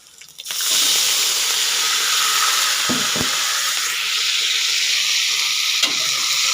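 Pork and garlic stir-frying in a pan, a loud, steady broadband sizzle that swells in after a quiet start, with a few low scraping stirs of the utensil partway through.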